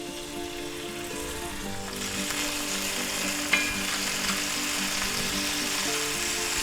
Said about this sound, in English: our pan's hot enough. And we're going to add 1 teaspoon of minced garlic